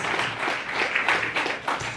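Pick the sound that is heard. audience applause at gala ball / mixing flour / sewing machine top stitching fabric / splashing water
audience applause at gala ball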